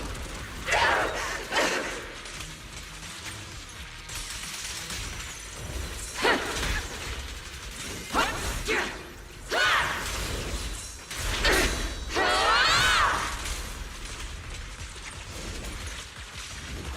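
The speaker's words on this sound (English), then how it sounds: "Unleashing artillery barrage." An artillery barrage in a video game: a run of heavy broadband blasts and crashes layered with whooshing effects and mechanical clatter, each impact swelling and fading under a dense, busy game soundtrack.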